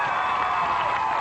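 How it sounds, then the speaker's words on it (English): A game-show studio audience claps and cheers in a steady, dense wash of applause, close and fairly loud, with no voice standing out. "Give her a big round of applause"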